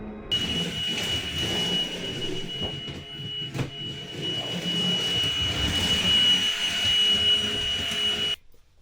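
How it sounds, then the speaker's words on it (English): A vacuum cleaner runs steadily inside an RV at a Florida campsite, giving a loud continuous whine with a sustained tonal hum that holds for about eight seconds and then cuts off abruptly near the end. "All done with the vacuum,"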